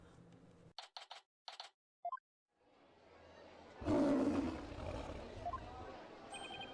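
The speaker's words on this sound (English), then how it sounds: "It's the cry of a local bird known as a warbod." A warbod bird in the Ace Attorney video game lets out a loud, rough roar that swells and trails off, following a few short electronic beeps and a pause.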